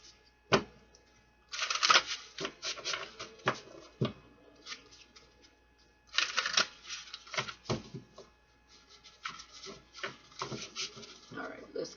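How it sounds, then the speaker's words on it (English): Tarot cards are shuffled in bursts of quick riffling and soft rubbing, close and fairly quiet, with short pauses between rounds. "All right, let's get another shuffle there"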